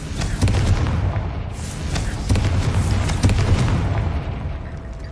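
Confringo blasting spell in the Hogwarts Legacy video game sets off a loud, continuous run of explosive rumbling with crackling bursts throughout, dense and close for the whole span.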